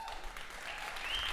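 Studio audience applauding a band at the Costa Rica Suena Así music showcase, a short, even wash of clapping at moderate distance with no voices over it.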